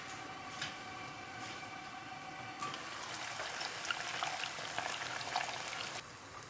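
Clams in a pot with red wine vinegar and Italian parsley simmer and bubble softly, a faint steady sizzle with small pops and light clinks, without talk.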